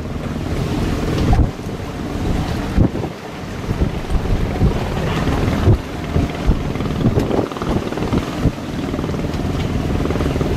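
Fishing net boats run into the harbour mouth at Duong Dong, their engines a low rumbling drone buried under heavy wind buffeting and surf wash, steady for about ten seconds with no talk.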